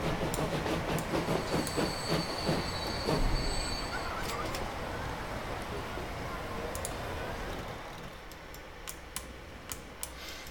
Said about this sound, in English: it's a Duke Dog with a local stopping passenger train